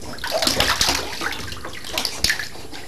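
A young child splashes and sprinkles water over herself in a bathtub, with close, irregular sloshing and splattering bursts and a few brief louder splashes.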